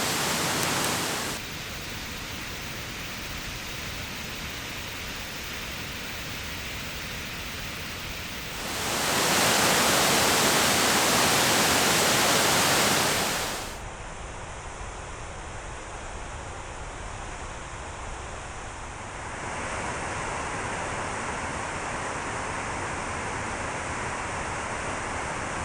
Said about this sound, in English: I can't miss this frozen waterfall here